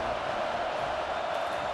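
A stadium crowd roars steadily on a 3rd-down defensive stand in the College Football 25 game, Louisville vs Florida State ACC Championship, heard as a dense, even wash of noise from a distance.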